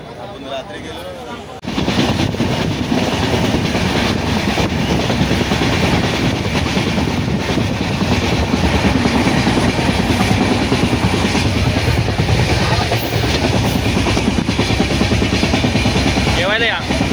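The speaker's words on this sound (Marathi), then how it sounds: "आता ट्रेन चालू झालेली आहे आणि ट्रेन आता सुटलेली आहे।" A Mumbai to Goa passenger train rolls along with a steady, loud rumble and faint rhythmic clatter, heard from inside the carriage as voices talk over it.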